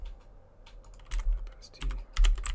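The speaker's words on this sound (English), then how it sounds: "I'm excellent at typing" Typing on a computer keyboard during a live programming session. Quick, uneven bursts of clicking keys come close and clear, with louder clusters of keystrokes and short pauses between them, and no talking.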